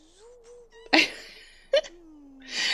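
A kitten in The Sims 2 mews in thin, wavering cries, separated by brief sharp bursts and ending in a louder breathy sound, quiet between calls.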